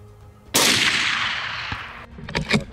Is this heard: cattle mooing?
no